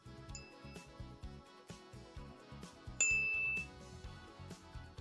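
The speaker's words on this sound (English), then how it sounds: "strike the tuning fork with the wooden stick several times, perhaps using different intensities and forces" Repeated strikes of a tuning fork hit with a wooden stick in a science demonstration on mechanical wave propagation, giving a series of sharp, bright rings and knocks at irregular intervals with varying force, one louder strike ringing longer.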